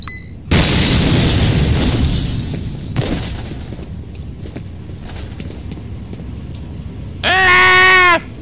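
Explosion in the shooter game F.E.A.R. Extraction Point, a sudden loud blast that roars and slowly decays over several seconds, with scattered debris clatter and a sharp electronic tone burst near the end.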